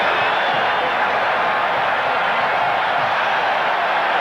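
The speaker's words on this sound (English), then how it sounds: "You hear again the roar from the crowd." Stadium crowd at a 1986 Oilers vs. Packers football game in Green Bay, a loud, dense, steady roar filling the whole clip without pause.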